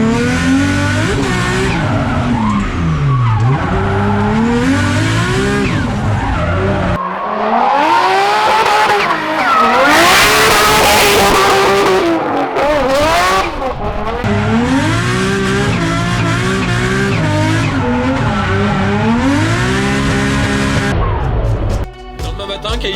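A race car launches off the start line at a CFD hill climb at Calmont and accelerates hard, its engine loud and close, revving up through gears with rising and falling pitch for the whole stretch.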